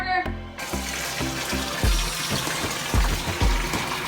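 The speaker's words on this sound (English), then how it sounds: "now I'm gonna fill up his pond so he can get back in it" Water pours steadily into a monitor lizard's pond, a continuous close splashing rush with a few irregular low thumps and knocks over it.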